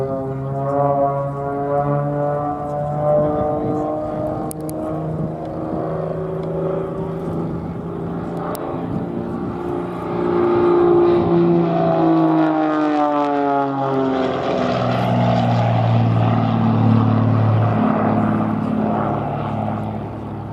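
Red Bull Matadors aerobatic aircraft flying in tight formation over Duxford give a continuous propeller-engine drone. The tone rises and falls as the planes pass at a moderate distance, heard alone without talk.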